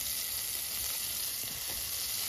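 Butter sizzles and fries steadily in a hot skillet ahead of cooking buttermilk pancakes, a continuous soft crackling hiss with no voices over it.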